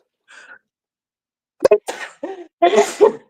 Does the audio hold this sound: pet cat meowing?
no